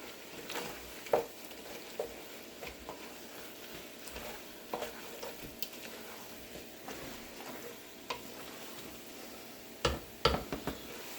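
Flour being stirred into a pan for a chicken pot pie roux, a quiet scraping and stirring with scattered soft clicks and taps of a utensil against the pan.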